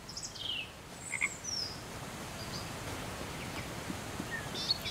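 Frogs croak in the video game Westland Survival, short faint calls spread over a steady rustling nature ambience with a few chirps, no voices.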